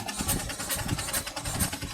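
A steam traction engine runs at a vintage steam rally, its steady rhythmic chuffs pulsing roughly twice a second at moderate volume, with no talk over it.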